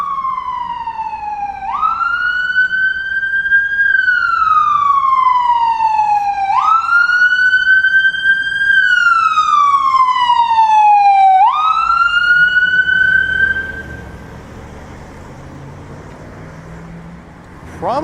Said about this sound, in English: that ambulance is going to Toronto Western, which is just up ahead at Dundas and Bathurst.